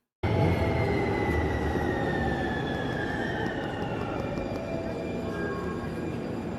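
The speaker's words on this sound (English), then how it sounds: "it's the sound of the train just warning people that it's arriving. It has like a fake bell noise" A train pulling into a station sounds a synthetic bell-like arrival warning tone over loud, steady rail rumble and wheel noise, with sustained tonal lines drifting slightly downward for several seconds.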